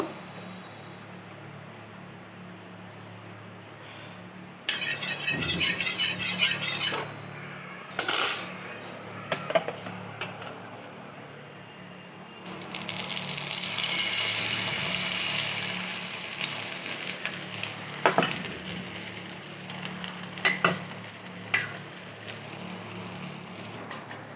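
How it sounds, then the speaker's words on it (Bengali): Batter poured into a lightly oiled hot kadai for a simple breakfast, sizzling steadily with bright hiss after a few clinks of utensils, continuing alone with occasional sharp taps. "তেল দিয়েছি, এবারে ব্যাটারটা দিয়ে দেব।"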